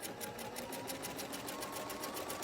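A sewing machine sews half square triangle quilt pieces, running in a fast, even, rapid stitching rhythm close up and continuously for a brief stretch.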